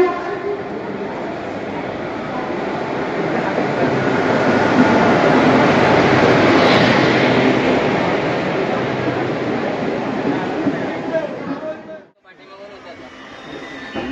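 A train at Lonavala railway station roars loud and close in a dense, sustained wash of rail noise, then cuts off abruptly near the end, with voices faintly under it.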